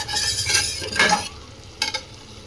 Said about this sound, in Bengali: এবার আমি এটা আস্তে আস্তে করে কষিয়ে নেব